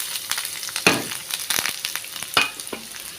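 Onion and garlic fry in a hot pan for spicy Maggi noodles, giving a steady close sizzle broken by a few louder crackles and stirring scrapes, with no voices.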